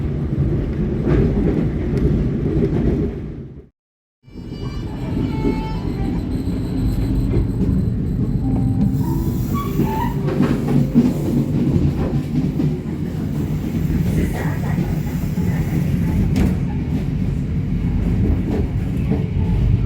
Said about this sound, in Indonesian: Kereta api Jayakarta akan melintas langsung di stasiun Purwosari.